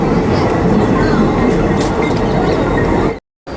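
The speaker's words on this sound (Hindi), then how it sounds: "कोरबा रायपुर पैसेंजर का अराइवल हो रहा है 30388 WAP7 के साथ" The Korba-Raipur passenger train, hauled by WAP7 electric locomotive 30388, rolls into the station with a loud, continuous rumbling roar of wheels and carriages close by, before cutting off abruptly near the end.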